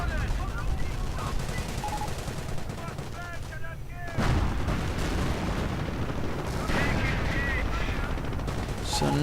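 Dense, continuous battlefield gunfire from a war video game, with German armor, stormtroopers and grenadiers mopping up British troops; overlapping rifle and machine-gun shots with booming blasts, loud and unbroken throughout.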